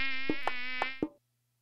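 Mosquitoes buzz as a sound effect in an Okinawan folk tale, a bright, close, steady high whine punctuated by four soft thumps before it cuts off abruptly into silence.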